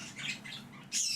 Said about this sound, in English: I hear you, Soleil, you little baby wee bird.